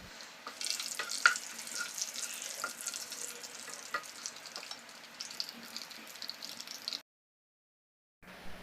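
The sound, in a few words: biryani spices sautéing in hot oil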